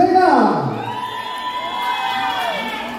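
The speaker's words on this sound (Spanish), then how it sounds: "Un aplauso para Alexis, venga." At a silver wedding anniversary party in Las Varas, Nayarit, guests break into loud cheering and whoops for a young singer, a brief close burst of shouts and cries that tapers off within a few seconds.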